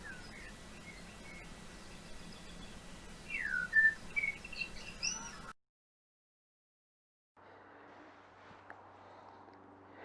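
Faint, thin chirps and rising whistled calls of a young blackbird over soft hiss, followed by silence and then a low, quiet hum.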